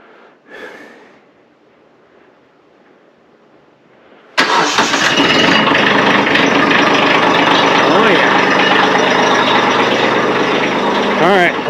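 A cold diesel engine with glow plugs cranks and catches after a few quiet seconds, then settles into a loud, steady idle on a snowy homestead; a brief breathy sound comes before the start.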